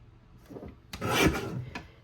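Blade of a paper trimmer slicing through cardstock: a soft rasp, then one louder, longer scraping stroke, then a brief click, close and alone.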